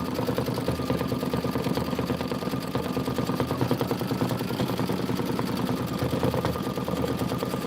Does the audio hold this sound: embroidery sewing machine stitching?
yes